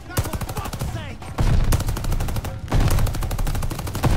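Rapid automatic gunfire in the video game Call of Duty: Vanguard, loud bursts of repeated shots running through most of the stretch with a brief lull, heard up close.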